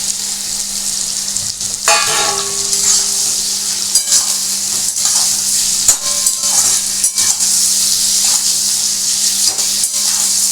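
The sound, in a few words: shankar (stingray) fish frying with onion in a pan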